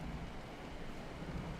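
Rain pours in a steady, dense wash on the storm-lashed Storm Coast in the video game Dragon Age: Inquisition, with a continuous low storm rumble and no voices.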